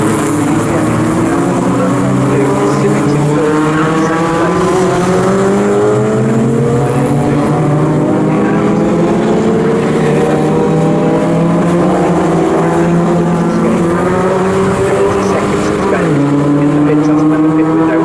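Touring race cars in a Snetterton tin-tops series race roar past continuously, with loud engines rising and falling in pitch as they pass and shift gears, under a commentator's speech.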